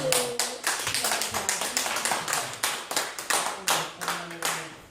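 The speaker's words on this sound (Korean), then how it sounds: "박수." A church congregation at a worship service claps together in a steady rhythmic beat, each sharp clap close and distinct, repeating evenly over several seconds.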